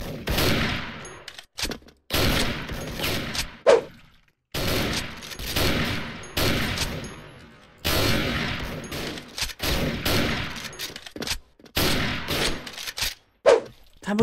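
AWP sniper rifle fire in the online shooter Special Force, a run of sharp loud shots in bursts with brief gaps, some followed by short metallic bolt clicks, with no speech.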